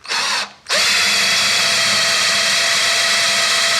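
A power drill bores through a Stratocaster guitar body, starting with a short burst, pausing briefly, then running steadily as a loud, close, high-pitched whine.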